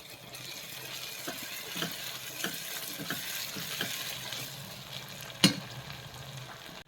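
Pav bhaji mixture sizzles and fries steadily in oil while a spoon stirs it, with soft scraping strokes recurring every second or so and one sharp clack near the end.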